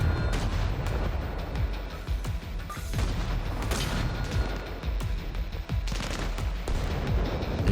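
Continuous barrage of AI mortar and gunfire in the video game Arma Reforger, dense overlapping booms and rapid shots with no pause, loud and sustained throughout.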